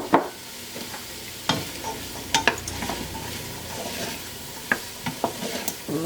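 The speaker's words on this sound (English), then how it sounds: "And we're just going to stir those in there" Chopped green beans, carrots and purple top turnips are stirred into a pot of chicken soup, with scattered clinks and scrapes of a spoon over a soft, steady sizzle.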